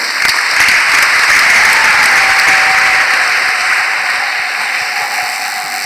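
Sustained audience applause for the caregivers at a church gathering, a dense steady wash of many hands clapping throughout, loud and continuous with a faint tone running underneath.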